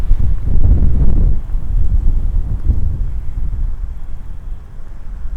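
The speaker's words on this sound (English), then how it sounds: "The wind is really picking up again." Strong outdoor wind buffets a binaural microphone, producing loud low rumbling gusts that surge early on, ease, then swell again before fading into a steadier blustery roar.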